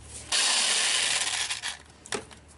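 A power drill whirs in a burst for over a second removing transmission pan bolts on a 2009 Hyundai Accent automatic, then stops, followed by a brief second spin and a faint mechanical rattle.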